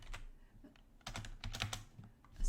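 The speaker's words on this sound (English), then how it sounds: "you can easily find them on here by typing in Finance and Treasury" Fingers tap a computer keyboard while entering a LinkedIn search, a quiet, close run of irregular key clicks in quick bursts with brief pauses.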